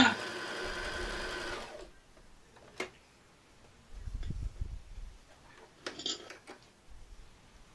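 Sewing machine stitching quickly with a loud rhythmic whirr for nearly two seconds until the bobbin thread runs out, then stopping, followed by scattered clicks and handling clatter nearby.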